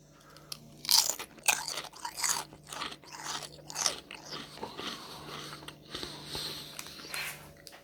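A Seabrook potato crisp gives a series of sharp, close crunches as it is bitten and chewed. The bites come in irregular bursts over several seconds with faint sniffing and no talking.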